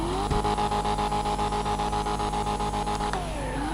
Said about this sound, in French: le petit bruit qui fait comme si on dirait qu'il y a de la nitro derrière